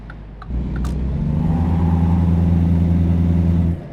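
A big rig's engine in American Truck Simulator drones at a steady, loud, low pitch for several seconds, then cuts off abruptly, with no one talking.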